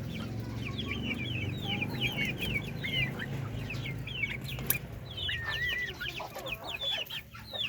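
Native chickens peck at commercial feed, a steady overlapping chorus of clucks and chirpy calls close by, with a constant low farmyard rumble beneath and no talking.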